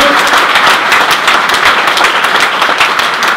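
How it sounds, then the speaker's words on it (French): Audience applause at a theatre performance of Marc Camoletti's play Sexe et jalousie, a loud, dense and even clapping of a full house that holds steady throughout. "Donnez un applaudissement."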